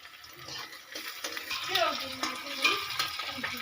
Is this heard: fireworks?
no